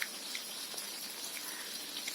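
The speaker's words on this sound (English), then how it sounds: "The rain sound is different when it falls on the ground, when it falls on the leaf." Rain falls on the ground and on leaves outdoors, making a soft, steady hiss of fine patter with scattered faint drop ticks, heard quietly throughout with no voices.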